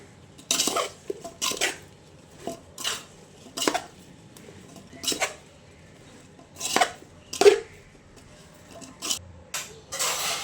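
Raw mango pickle is mixed with spice mix, with a series of close, irregular clattering scrapes of a spoon against the bowl separated by short quiet gaps.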